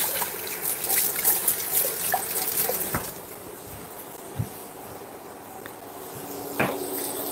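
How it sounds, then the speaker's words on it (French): A small whisk being rinsed under a running kitchen tap while preparing a mustard sauce, with a steady trickle of water and a few light clinks of metal against the sink, close by and without speech. "je vais laver vite fait mon petit fouet"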